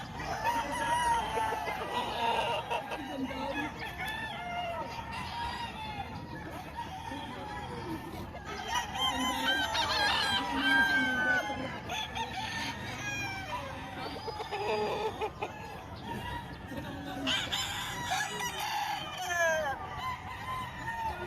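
Chickens and roosters at a Tuesday poultry market in Padre Garcia, Batangas, with repeated loud crowing and clucking from several birds near and far, over a background of people chattering.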